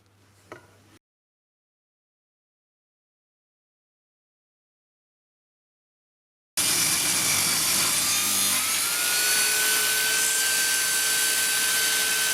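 A Parkside PKTS 2000 table saw biting into a thick, tall piece of wood, a loud sustained whine and rasp after a short faint start and several seconds of silence, running steadily to the end.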